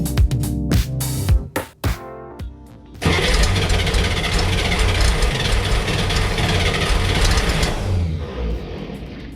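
A flood-damaged 1965 Chevrolet Corvair engine cranks on the starter in uneven bursts, then catches into a loud, rough roar for several seconds before fading as it begins to die, close and without talk.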